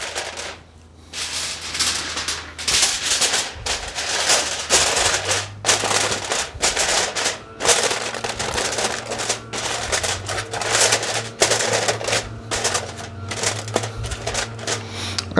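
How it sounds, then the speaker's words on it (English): Sheets of aluminium foil being torn off and pressed over a pan of pork for slow-cooked pulled pork BBQ, giving close, loud crinkling and rustling in continuous bursts with a low hum underneath. "I just grab a few sheets of foil. We'll cover this up, make sure it's nicely covered."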